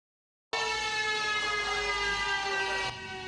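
A barrier lake warning siren sounding in Hualien's Guangfu township, starting abruptly after a moment of silence and holding a loud, steady wailing tone with bright harmonics for the rest of the clip.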